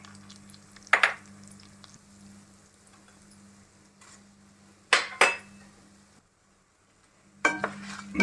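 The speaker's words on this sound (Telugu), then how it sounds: "శనగపప్పు వేసాను కదా, మినపప్పు, ధనియాలు అన్నీ కలిపి వేయించుకోవచ్చు" Chana dal, urad dal and coriander seeds roasting in a pan make a faint dry rustle, broken by a few sharp scrapes and clatters of a spatula against the metal.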